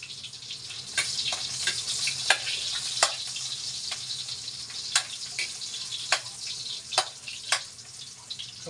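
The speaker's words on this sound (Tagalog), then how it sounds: "Pag mainit na, ilagay na ang luya." Ginger frying in hot oil, a steady bright sizzle punctuated by a series of sharp clicks and scrapes from stirring against the pan, close and fairly quiet, with no talking.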